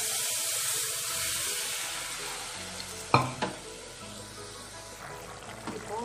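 Boiled bottle gourd drops into hot oil tempered with mustard seeds, urad dal and curry leaves, giving a steady sizzle with a sharp clattering burst midway and a spoon stirring near the pan.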